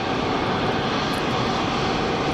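Steady, loud broadband roar of an EasyJet jet airliner's engines at Geneva Airport, a continuous rush with no break and no talk over it.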